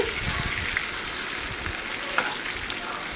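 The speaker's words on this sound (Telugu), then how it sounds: "వీటిని ఈ కాగుతున్న నూనెలో వేసి కొద్దిగా బ్రౌన్ కలర్ వచ్చే వరకు ఫ్రై చేసుకోవాలి" Pieces of bitter gourd fry in hot oil, giving a loud, steady, close sizzle with faint stirring bumps throughout and no pause.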